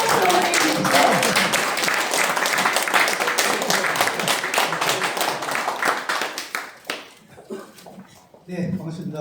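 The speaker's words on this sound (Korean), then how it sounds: "큰 박수로 환영해 주십시오." A corporate business-presentation audience applauds to welcome the founder and chairman of Terrastar, loud dense clapping filling most of the clip before thinning and fading near the end, with a voice emerging as it dies down.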